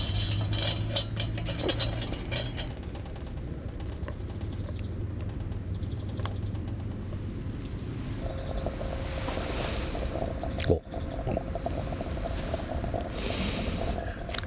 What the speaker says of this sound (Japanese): なんかお湯が沸騰したような音が、 そうですね、 音がするんですね